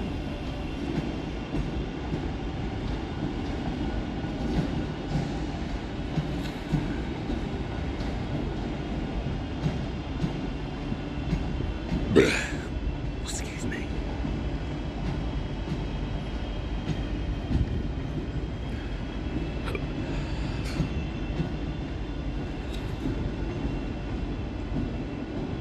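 West Midlands Railway Class 323 electric trains at Birmingham New Street station, a low continuous rumble and hum of a train inside the station, with a few sharp squeals and clanks partway through.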